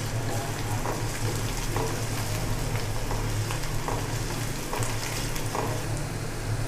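Spices fry in hot oil ahead of the ridge gourd going in, a constant loud sizzle with small crackling pops and a low hum beneath, no voices.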